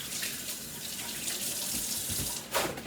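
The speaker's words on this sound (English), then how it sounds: "let me wash my hands again" A kitchen sink faucet runs steadily for hand washing while a slow cooker meatloaf is being made, a close, continuous hiss of flowing water that changes briefly near the end, with no voices.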